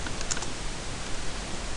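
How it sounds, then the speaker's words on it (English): Someone types briefly on a computer keyboard, producing a few soft, quiet key clicks near the start over faint background hiss. "I go to the center, and now I just type."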